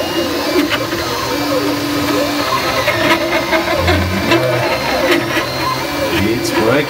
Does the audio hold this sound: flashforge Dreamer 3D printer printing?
yes